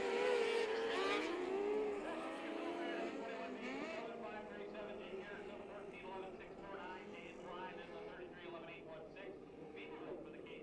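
Dirt track race cars running hot laps in a Hoosier Dirt Cup event, a steady roar of engines throughout, rising and falling as cars pass, with an announcer talking over it.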